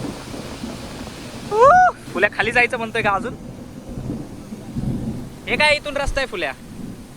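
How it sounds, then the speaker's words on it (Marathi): Monsoon rain and rumbling thunder in a forest on a trek near Lonavala, a continuous wet wash with low rolls, while hikers talk over it in two bursts. "पाऊस चालू झालाय."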